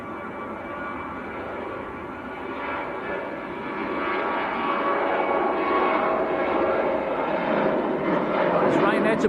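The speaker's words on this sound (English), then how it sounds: "Ryanair on the roll." A Ryanair jet rolls for takeoff at Manchester Airport, a steady broadband engine roar that swells after a few seconds and holds loud to the end, with no one speaking over it.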